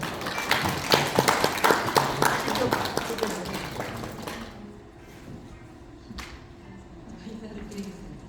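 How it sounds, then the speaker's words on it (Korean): An audience at a tea and health detox lecture applauds a visiting Korean monk, a few seconds of loud, dense clapping that fades into quieter sounds with a voice. "우리 스님 큰 박수로 한번."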